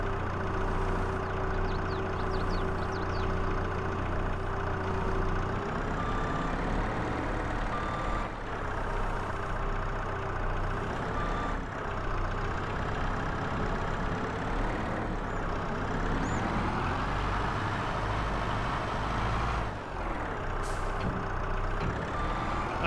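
Skid steer in Farming Simulator 22, a steady droning engine with a reversing beeper pulsing over it throughout, close and continuous with small shifts in pitch.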